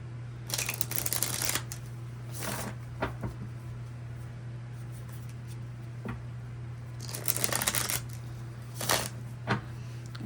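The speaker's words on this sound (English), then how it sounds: "couple more shuffles." Tarot cards shuffled by hand in a few distinct riffling bursts separated by pauses and light clicks, close-up and soft over a constant background hum.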